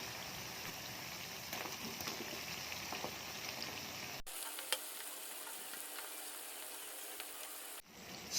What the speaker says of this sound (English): Stir the potato and the onion well and turn the heat down slightly.